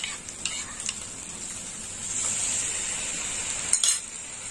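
Soaked spice paste frying in a pan while cooking prawns with vegetables, a soft steady sizzle with a few scraping stirs of a utensil, fairly quiet and with no voices.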